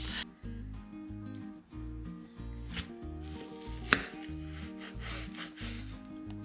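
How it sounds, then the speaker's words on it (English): A knife slices a tomato on a cutting board with about a dozen crisp, close cuts in a steady rhythm and one sharper knock near the middle, no voices. "Then I sliced the tomato into 3 slices."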